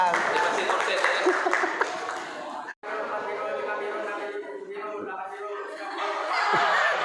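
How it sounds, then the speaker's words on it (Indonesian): An audience claps in a burst of applause at a writing workshop held in an Islamic boarding school, with murmured chatter and a brief break partway through, continuing steadily at close range. "tepuk tangan"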